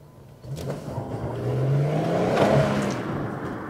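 A warm Audi A6 Allroad estate with a 2.7 V6 of 250 hp catches quickly on the starter, then its engine note climbs in a rising rev close by.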